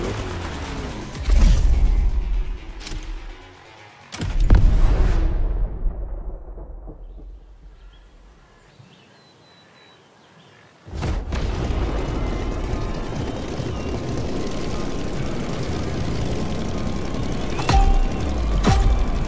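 Aircraft taking off in the racing game The Crew Motorfest: two loud booming roars, a quiet lull, then a sustained broad engine rush that holds to the end.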